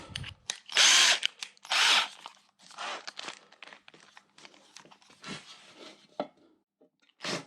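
A power drill runs an M8 bolt into a Royal Enfield rear mudguard. It comes in loud, close, whirring bursts, then rattles and scrapes more quietly, with a final short burst at the end.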